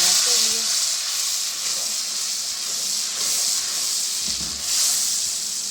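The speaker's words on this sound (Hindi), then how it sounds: "टमाटर को हम अच्छी तरह भून लेंगे।" Tomatoes with red chili, turmeric and salt sizzle and fry in a pan, a steady loud hiss that swells and eases in waves, with occasional faint stirring scrapes underneath.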